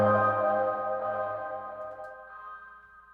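A single soft synth chord processed with Crystalline and reverb swells and slowly fades, leaving a washy, shimmering tail that lingers as it dies away.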